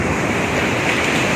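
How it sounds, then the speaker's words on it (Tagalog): Ocean waves washing onto a shore, a loud, close, continuous roar of surf with breezy wind noise over it, brief and unbroken with no voices. "Tignan mo yung tubig, baka ano hilahin ka nung alon."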